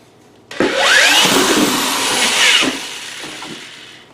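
A power drill with a 2-inch hole saw whines loudly as it cuts through material for about two seconds, pitch shifting under load, then spins down and stops.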